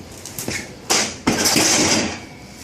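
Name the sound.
exhaust of golf cart converted to GX390 gas engine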